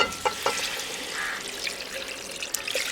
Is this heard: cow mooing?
no